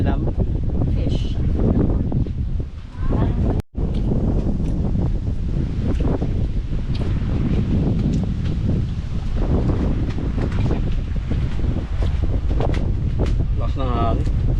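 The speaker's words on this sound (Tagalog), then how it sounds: "Lakas ng hangin" Strong wind roars at a seaside cliff campsite at Cabangaoan Beach in Burgos, Pangasinan, a loud continuous buffeting rush against the microphone with a brief dropout, and voices faintly under it.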